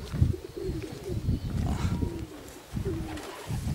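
Racing pigeons cooing close by in soft, repeated low calls as birds circle and arrive at a loft, with faint outdoor background noise and occasional rustling.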